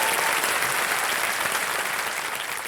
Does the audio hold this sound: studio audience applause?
yes